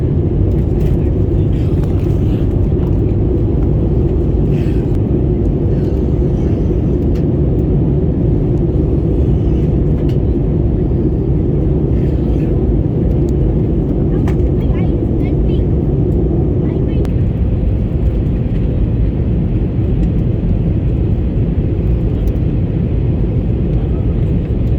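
Steady loud cabin roar inside an Air India Airbus A321 during landing, a continuous low rumble of engines and airflow that holds throughout, with a slight shift in tone partway through.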